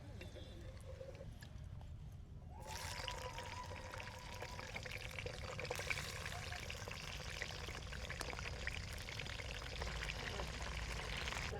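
Roadga, a rustic village-fair dough cake, frying in oil: near-silence gives way to a faint, steady crackling hiss that carries on continuously, with low voices briefly audible as it starts.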